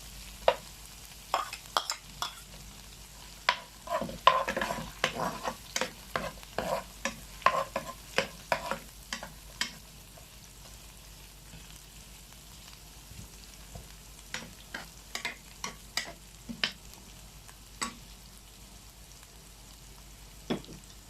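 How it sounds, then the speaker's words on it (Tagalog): Garlic, onion and ginger sauté in a pan for adobong sitaw, a soft, steady sizzle under frequent scraping and tapping of a spatula stirring, heard close with no voices. "igigisa po natin maigi po yung bawang, sibuyas, at saka luya po"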